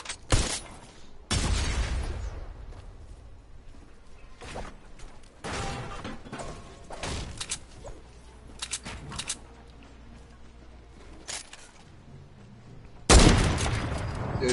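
Loud, sharp heavy sniper rifle shots in a building-and-shooting video game, a handful of separate blasts spread out over quiet stretches of game noise, with one final heavy shot near the end.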